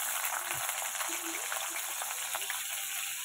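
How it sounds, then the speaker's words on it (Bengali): Bitter gourd (karela) pieces frying in hot oil, a steady, even sizzle with a few faint voices murmuring softly underneath. "তো আগে ভেজে নেব করলাগুলো।"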